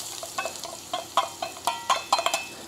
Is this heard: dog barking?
no